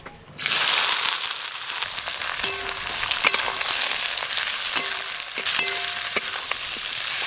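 Chopped onions fry in a pan for a goat-meat gravy, hissing loudly and steadily after a sudden start, with occasional clinks and scrapes of a utensil stirring through the sizzle.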